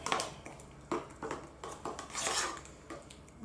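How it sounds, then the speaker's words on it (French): A metal spoon scrapes and clinks against a pot or bowl while porridge with compote is mixed, a series of close, irregular taps and scrapes at a modest level. "On mélange bien."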